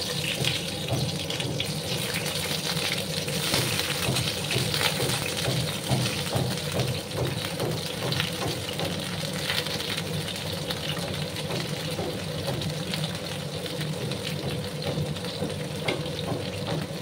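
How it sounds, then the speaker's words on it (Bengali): Pieces of pointed gourd (kakrol) frying in hot oil, a steady, dense sizzle that runs unbroken from start to finish with no talking. "তারপর আমি কাঁকরোলগুলোকে প্রথমে একটু ভেজে নেব"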